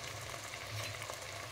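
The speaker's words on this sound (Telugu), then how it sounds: "వెజిటేబుల్స్ అన్నీ ఇలా ఫ్రై అయిపోయాయి చూడండి, బాగా ఫ్రై అయ్యాయి." Vegetables sizzle in a pan with mint and coriander being stirred in for biryani, a steady close frying hiss with soft scraping from the stirring.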